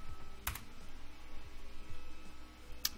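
Computer keyboard keys are pressed while setting up Arch Linux disk partitions: a few sparse, crisp clicks, one sharp strike near the start and another near the end, fairly faint against a quiet background.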